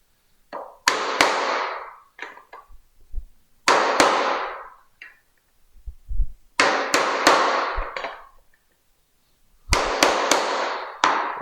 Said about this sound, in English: let's get the mortise chisel. See how much of a bang we can get out of that.